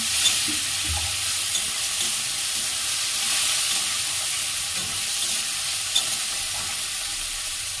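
Chopped tomato frying in a pan, a steady close sizzle with occasional soft stirring scrapes, continuous and fairly loud with no talking.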